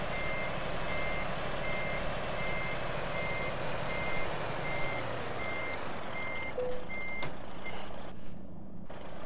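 Evenly spaced reversing beeps from a DAF XF Euro 6 truck in Euro Truck Simulator 2 sound over a steady engine rumble, followed by a sharp hiss like an air brake near the end.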